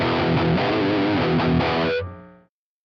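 Distorted electric guitar played through a Tangerine R100 amp sim loaded on an Xtom Mini, a dense sustained chord passage that rings out loud for about two seconds, then cuts and decays to silence.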